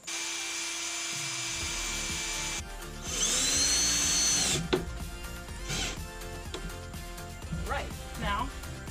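A power drill drives screws into wood while upper cabinets are built in a ProMaster 159-inch wheelbase van, giving a short, close whirring burst among quieter handling noises, with someone talking.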